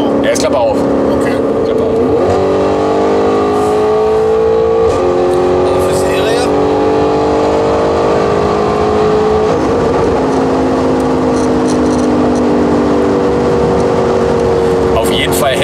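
Audi RS6 4G sports car with exhaust flap open, a loud continuous engine drone with shifting harmonic tones as revs rise and ease, heard steadily throughout with voices talking over it.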